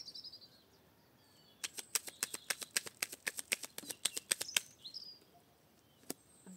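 Cards are shuffled and drawn for a reading, heard as a quick run of crisp riffling snaps lasting about three seconds, close and fairly quiet, followed by a single later card snap.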